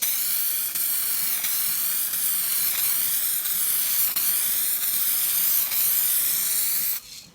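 Aerosol paint sprayed onto a car bumper to cover scratches and gouges, a steady close hiss running about seven seconds with short pulses, then stopping abruptly.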